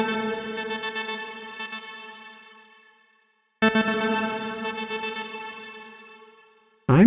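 Pad layer of the Saturn hybrid piano sample library, two sustained synth-piano chords that swell and slowly fade with a shimmering, effected tail, separated by a short silence.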